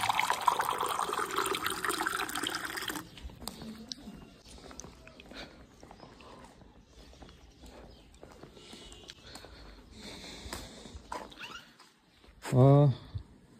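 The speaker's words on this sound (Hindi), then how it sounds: "इससे भरते हैं ठंडा पानी।" Cold water gushes loudly into a container for a few seconds, followed by quieter handling and shuffling noises and a short voiced sound at the end.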